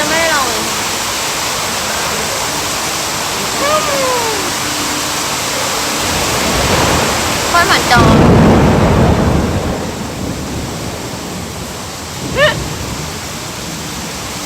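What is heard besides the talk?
heavy rain with thunder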